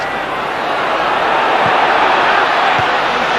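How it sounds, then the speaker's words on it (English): A Celtic football crowd roars in a dense, steady wash of shouting at a Scottish League Cup match against Aberdeen in 1999. The crowd noise is loud and continuous, and a commentator's voice sits on top of it. "Celtic crowd shouting for Viduka to go right in on that."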